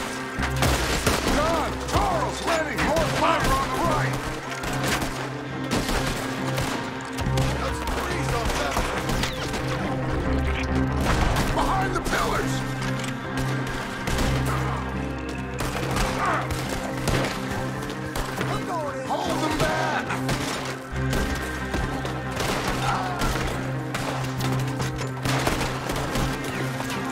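Shootout gunfire in a video game, sustained rapid volleys and scattered shots with splintering wood impacts, continuous and loud, while voices shout over the fighting.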